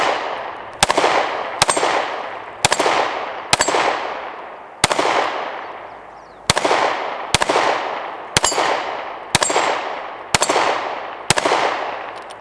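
Taurus G3c pistol firing at steel gongs outdoors, eleven sharp, loud shots at a slow, fairly even pace, each followed by a ringing decay.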